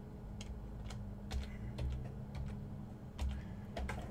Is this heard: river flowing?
no